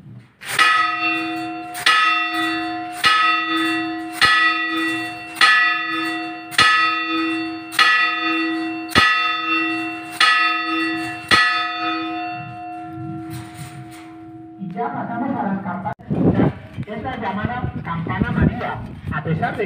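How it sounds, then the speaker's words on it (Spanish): A lower church bell in Trébago, Soria, Spain, tolls repeatedly at a slow, even pace, each strike ringing out and overlapping; the ringing stops and people start talking. "Escuchemos la campana de abajo."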